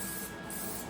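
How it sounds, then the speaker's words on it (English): Anti-spatter spray is sprayed onto a scooter freewheel wheel and sprocket before welding, giving a steady, faint, continuous hiss from an aerosol can. "I'm gonna take some anti-spatter spray and spray it on the wheel and the sprocket."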